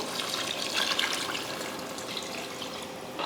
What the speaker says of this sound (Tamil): தண்ணி சேர்த்துருவோம்